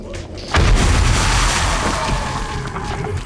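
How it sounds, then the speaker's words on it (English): A bomb blast booms loud and close in 7 Days to Die during a horde night fight, and a long, rumbling roll of explosion noise follows and slowly fades. "Give them a little bit more explosive action there. Almost out of bombs here."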